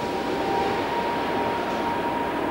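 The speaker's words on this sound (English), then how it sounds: "This train runs using magnetic pulses." A maglev train glides along its guideway in Emsland, a loud, steady rushing roar with a faint whining tone running through it, even and unbroken.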